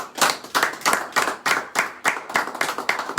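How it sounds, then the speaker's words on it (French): Church congregation clapping in a steady, even rhythm, roughly three claps per second, close and lively with no talk over it. "Acclamons le Seigneur."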